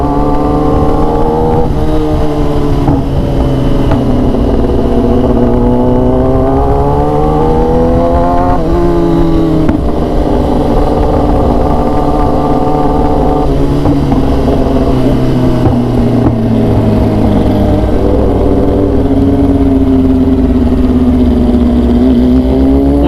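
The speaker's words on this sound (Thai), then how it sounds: "เสียงเสียงเหมือนแบบกอคันเร่งไว้แม่งดังจริงนะ R6 โคตรดังอ่ะ ดูดิ ดูดิ ให้ฟังเสียง" A loud Yamaha R6 sport motorcycle engine revs hard and continuously up close, its pitch climbing and falling through repeated throttle blips over a steady idle, with no talking over it.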